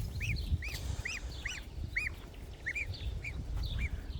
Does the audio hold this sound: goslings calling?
yes